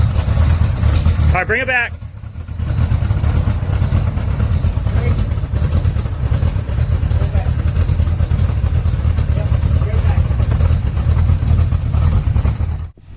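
A Corvette C3 runs after an engine swap, holding a steady, low engine rumble throughout. Someone speaks briefly near the start over the running motor.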